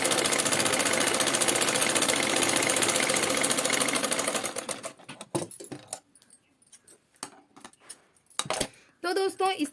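A sewing machine runs a steady, dense straight stitch on a belt blouse for about four seconds, then stops; a few scattered handling sounds and brief talk follow in the quieter remainder.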